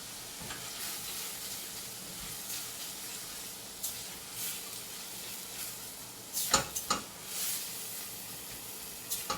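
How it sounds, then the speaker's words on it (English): Garlic, tomato paste and dried thyme sizzle softly as they are stirred into browning sausage in a pan, a low steady frying hiss broken by a few sharp clatters and scrapes of the spoon, nobody talking. "Now, let's add the garlic, tomato paste, and dried thyme. Stir that up for about 30 seconds."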